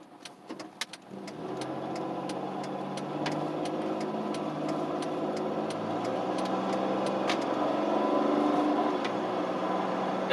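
A Dodge Grand Caravan minivan on the road, its engine and road noise a steady, even drone from the cabin, with a few clicks and knocks at the start.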